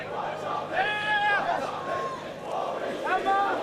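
Crowd of spectators at a school rugby match, Bishops versus Rondebosch, on a cold Cape Town winter's day, shouting and cheering in rising bursts of yells and babble close by.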